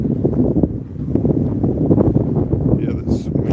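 Cold outdoor wind buffets the microphone in a steady low rumble with gusty swells, continuous throughout; a faint voice sits underneath and a brief higher rustle comes near the end.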